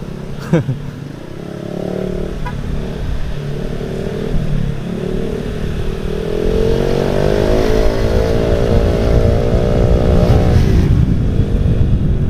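A Kawasaki motorcycle engine runs nearby, revving up and rising in pitch, growing louder toward the end.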